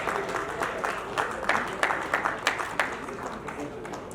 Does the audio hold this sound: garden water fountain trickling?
no